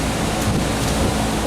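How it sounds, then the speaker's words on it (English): Strong wind blows outdoors on an October day, a dense, continuous rushing buffet against the microphone for the whole short stretch. "Pretty windy today."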